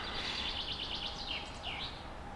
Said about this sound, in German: ob ich das von hier aus höre vor lauter Vögelgezwitscher